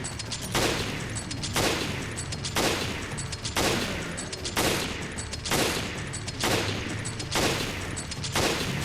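Gunfire in Resident Evil Revelations Raid Mode as a player shoots a rock creature, loud shots repeating in a regular rhythm about once a second.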